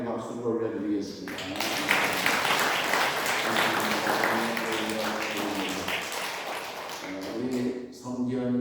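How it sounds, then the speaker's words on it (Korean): Church congregation applauding during a Sunday worship service: a dense burst of clapping from many people that swells in and holds for several seconds, with a voice speaking before and after it. "찬송과 영광의 박수를 올려드리겠습니다"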